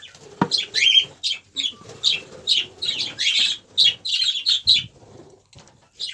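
Young budgerigars in an aviary breeding room chirp in rapid, bright bursts with a few soft wing flaps, a busy stream of close calls with no talk.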